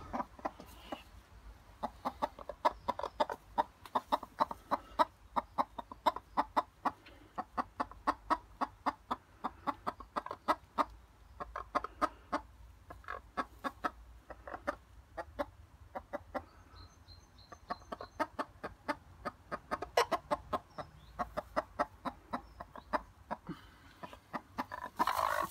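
A broody hen clucks in a fast, continuous run of soft, low grunting notes, close and fairly quiet, carrying on steadily with a few brief pauses.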